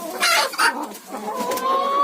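Several hens and quail cluck nearby in quick, overlapping bursts, with a higher drawn-out cackle near the end; no one speaks.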